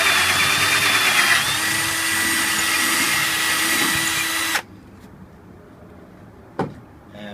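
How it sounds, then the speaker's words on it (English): A small drill with a 3/64 bit bores into the lock of a metal ammo box, whining loudly and steadily for about four and a half seconds before stopping abruptly. One sharp clack follows. "I'm going to come right back in here and do the final drill."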